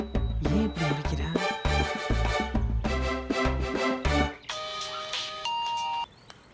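After a stretch of music, an electronic phone ringtone plays as steady repeating tones for about two seconds in a TV series scene, then cuts off into near silence.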